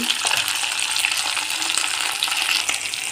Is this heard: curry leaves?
yes